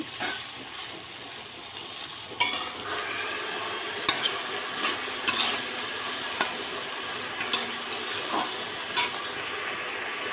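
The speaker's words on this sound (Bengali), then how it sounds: "এটা দিয়ে আমি একটু মশলাটা কষিয়ে নেব" A paste of white and black mustard, green chilli and ginger frying in a pan as a masala, giving a steady low sizzle broken by sharp clicks and scrapes of a spatula against the pan.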